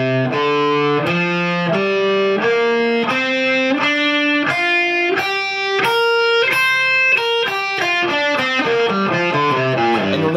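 Distorted electric guitar plays a minor pentatonic lick in the second position, a steady run of clear picked notes stepping up and down, loud and close with no talking.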